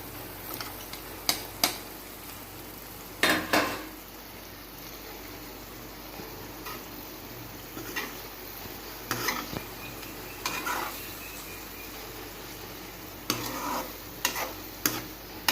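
Cut boiled eggs stirred into egg masala in a pan, with a low sizzle beneath and a few sharp clinks of the spoon against the pan scattered through the stirring, no talk.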